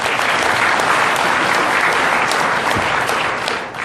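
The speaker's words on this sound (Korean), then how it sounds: "박수 한번 주세요." An audience at a city mayor's lecture in Mokpo breaks into sustained, loud applause, a thick, even roar of clapping that holds steady throughout.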